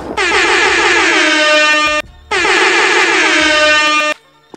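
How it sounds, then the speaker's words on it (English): Two long, loud blasts of an air horn, each about two seconds, separated by a brief pause. "Little air horns for that"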